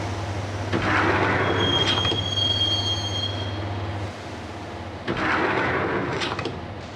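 Train wheels rumble along the rails in Max Payne, with a sustained low drone and metallic squeals rising twice, a near, continuous ride that quiets briefly before swelling again.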